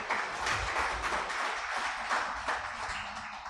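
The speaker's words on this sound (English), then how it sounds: "Could you give them a round of applause?" A press and public engagement audience applauds panelists, a steady, fairly faint patter of clapping heard from across a hall.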